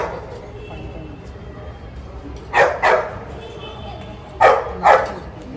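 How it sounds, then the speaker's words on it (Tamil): A dog barks in the background, two pairs of quick barks spaced a couple of seconds apart over a low ambient hum, with faint voices around. "அதை ஜார்விஸ் தான் கத்தின்னுக்குது, அப்படிலேருந்து பார்க் பண்ணினுக்குது."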